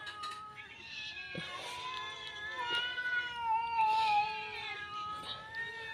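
Several cats yowl and meow over one another in a squabble over fish scraps, with drawn-out wavering cries repeating throughout, fairly close and continuous.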